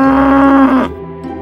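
A single loud, close cow moo, a sustained tonal low call that swells and then cuts off abruptly, followed by near silence.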